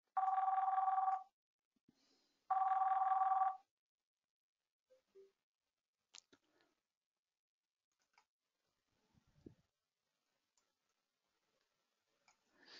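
Phone app ringing in two long electronic ring bursts separated by a short pause, loud and close, followed by near silence with faint ticks and taps.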